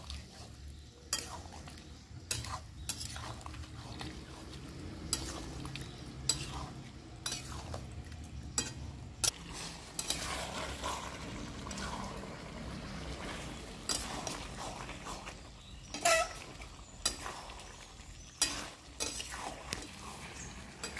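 Duck meat being stirred with spices in a pan, a faint frying sizzle broken by repeated irregular knocks and scrapes of a spoon against the metal, close and fairly quiet over a long stretch.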